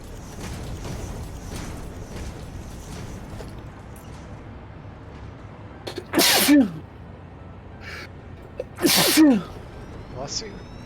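Two sharp, loud sneezes burst out a few seconds apart over a quiet background of faint talk and game sounds.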